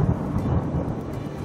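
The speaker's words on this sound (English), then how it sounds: "Nice little shower. Rains like that here." Rain shower with rolling thunder in a Fiji jungle, a steady dense wash of rain with low rumbling underneath, continuous and fairly close throughout.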